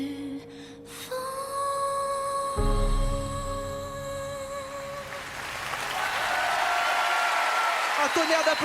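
An audience bursts into applause for a singer as her sung cover of a Pocahontas ballad fades out. The clapping rises into a broad, loud wash that fills the last few seconds.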